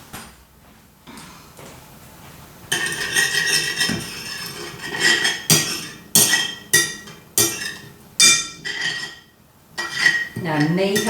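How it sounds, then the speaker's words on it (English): A spoon clatters and clinks against a bowl as fresh mint is stirred in, a series of loud close scraping and knocking strokes in an uneven rhythm after a quieter start. "I'm going to come in next with the mint. And I'm just going to stir that up."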